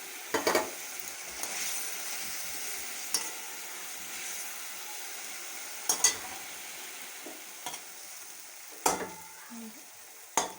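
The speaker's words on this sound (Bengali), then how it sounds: "তরকারি হয়ে গেছে এবার মাছ দিয়ে দিলাম" Shing fish simmering in a curry, a soft steady bubbling and sizzle broken by several sharp stirring clinks and scrapes of a utensil against the pot, with no talk.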